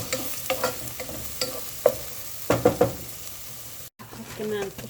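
Garlic fries in ghee or oil in a pan for a zucchini dish, a soft sizzle broken by sharp stirring taps and scrapes near the microphone.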